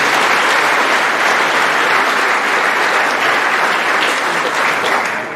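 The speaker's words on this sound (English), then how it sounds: "Please give them a round of applause." Sustained audience applause fills an athletic awards night, steady and loud from start to finish with dense clapping from a large crowd and no break.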